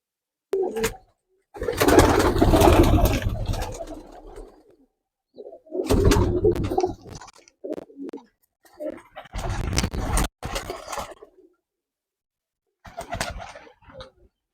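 Pigeons coo in several low, throaty bursts separated by pauses, fairly close and clear with no talking.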